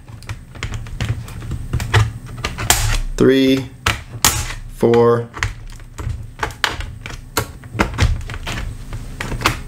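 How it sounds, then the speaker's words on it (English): Plastic keyboard retaining snaps on a Dell Inspiron 14 laptop are pried up one after another, giving sharp clicks and taps spaced through the stretch while a man counts along nearby. "We're gonna snap those up so we can take our keyboard out."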